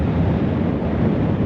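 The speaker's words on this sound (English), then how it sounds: "It's very windy, there's a lot of wave action going on right now" Strong wind buffets the microphone on the Bandon coast, merging with the heavy roar of surf into a loud, steady, broadband rush with no voices.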